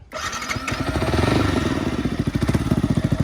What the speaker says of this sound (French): je vais vous faire écouter le petit bruit de la ligne GP Carbone